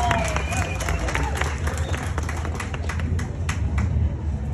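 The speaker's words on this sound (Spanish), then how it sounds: "Fuerte el aplauso para la comunidad guatemalteca radicada acá en Utah" A crowd at a Central American festival in Salt Lake City, Utah claps and cheers under a steady low background rumble, with the applause building slightly toward the end.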